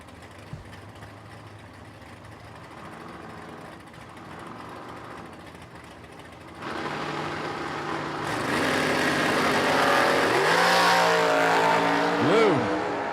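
Drag racing cars, a Chevy Nova and a Camaro, rumble at the line and then launch hard down the strip, engines rising into a loud sustained roar with a sweeping pass near the end while an announcer talks over the start.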